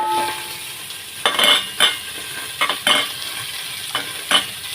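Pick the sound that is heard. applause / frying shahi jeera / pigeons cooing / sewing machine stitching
frying shahi jeera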